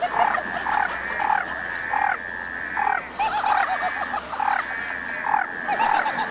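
Tree frogs croak in repeated short bursts, a loud, close chorus of rhythmic calls with brief pauses between groups.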